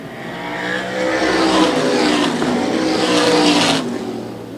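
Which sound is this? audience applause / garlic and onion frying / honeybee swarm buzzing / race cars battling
race cars battling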